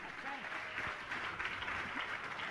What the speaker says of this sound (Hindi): पुनः जोरदार बजा ताली